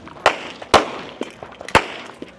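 Three sharp rifle reports ring out at a biathlon firing line during a regional men's elite bike-and-shoot race in Utah, the cracks loud and close, with fainter shots from other shooters scattered between them.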